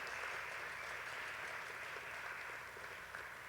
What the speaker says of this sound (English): Let's have a round of applause for the Jazz Ensemble.